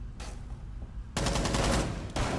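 Shotgun fire in Rainbow Six Siege, a faint early shot then a loud sustained burst of blasts and a final sharp report, close and dense.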